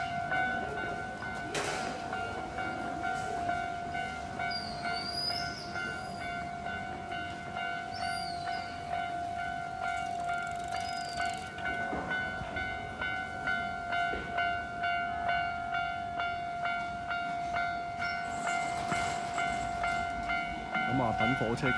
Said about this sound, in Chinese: 咁你大家听到啊，有火车声啦